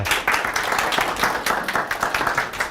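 A seminar audience warmly applauds to welcome the Korea head of Chainalysis, a close, lively burst of many hands clapping with distinct individual claps pulsing through the steady roar.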